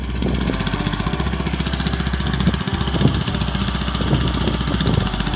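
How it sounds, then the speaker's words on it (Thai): Small engine running on a Thai vegetable farm after starting, a loud close idle with a rapid even chugging pulse and steady low drone, no voices heard. "ติดเครื่องแล้ว"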